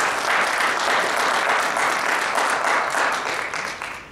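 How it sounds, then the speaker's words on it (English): An audience gives a round of applause for panel members at a press conference, dense and steady clapping that holds loud for several seconds before tapering off toward the end. "let's give the panel members a round of applause."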